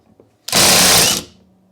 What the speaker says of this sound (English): So now if I do it in reverse, as soon as it stops impacting, it should stop.